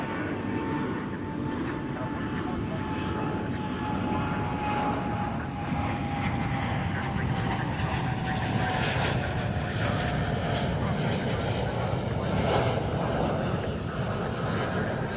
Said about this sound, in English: Dreamliner.